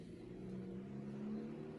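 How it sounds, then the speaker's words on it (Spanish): Cars passing on a road at night beside a rainy bike path, a faint steady engine hum and tyre whir rising slightly as a vehicle goes by, heard at a distance with no talk. "Cuidado, ahí vienen coches."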